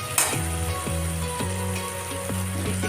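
Tomatoes frying in a kadhai for a home-cooked chicken curry, giving a steady close sizzle and crackle with a faint repeating tonal hum running underneath.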